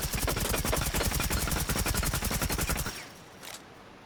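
Rapid automatic gunfire from Deimos's main weapon in Rainbow Six Siege, a dense unbroken burst of evenly spaced shots lasting about three seconds, then cutting off with a brief faint echo.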